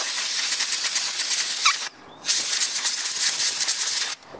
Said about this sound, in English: So we've given it a blow with the airline of our air compressor